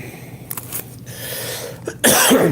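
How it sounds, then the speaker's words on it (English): A few short, sharp coughs close to the microphone, ending in a louder, harsher burst. "I just coughed."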